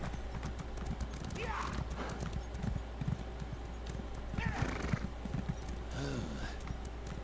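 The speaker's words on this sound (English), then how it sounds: "let's get on the horse again" Rhythmic hoofbeats of a horse clip-clopping steadily, with occasional whinnies, in the video game Elder Scrolls Online, under a voice talking over a constant low hum.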